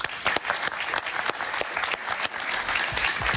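A television studio audience applauds a guest, the writer Emanuel Rincón, with close, crisp clapping and distinct sharp hand strikes, lively and loud across the whole stretch.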